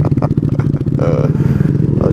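A motorcycle engine revving hard during a wheelie, a loud, close, rasping drone that pulses and climbs in pitch over about two seconds, with no voice heard.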